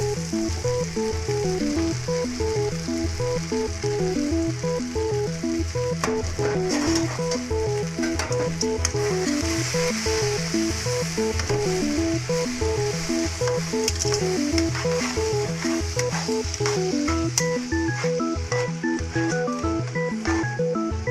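Mushrooms frying in a pan for tofu marsala, a loud, close, continuous sizzle with stirring, heard under steady background music.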